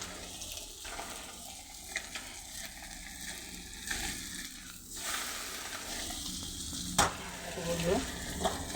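Small mourala fish and potato curry stirred in a pan, a steady sizzle with intermittent spatula scrapes and a splash of added water, close and moderately loud, with brief faint voice.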